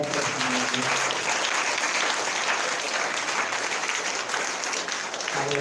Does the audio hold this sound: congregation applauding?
yes